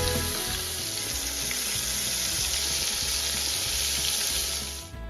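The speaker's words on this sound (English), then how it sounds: "I just watch the deer steak as it fries" Steady, loud sizzling of deer steak pan-frying in hot oil, a continuous crackling hiss that carries on throughout.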